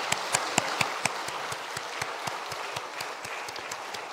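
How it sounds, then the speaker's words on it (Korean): A church congregation applauds during a Sunday afternoon worship service, a steady patter of individual claps carrying on for several seconds at moderate distance with no talking. "우리 다 박수 한번 치도록 하십시다"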